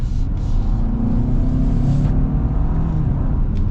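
A 2026 Hyundai Santa Fe with the 2.5T engine and torque converter automatic pulls under acceleration while driving, giving a steady, full low engine rumble and road drone heard from inside the cabin, with no talking.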